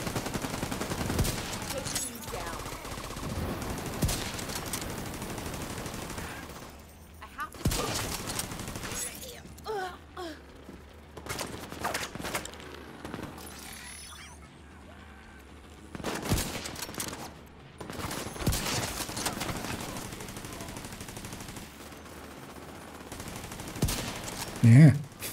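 Gunfire in a first-person shooter video game, bursts of rapid shots and sharp cracks in several clusters, with quieter gaps between, and someone talking over parts of it.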